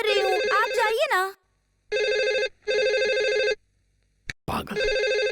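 An old-style telephone bell rings in loud bursts separated by pauses, after a brief vocal sound at the start and a sharp clatter near the end.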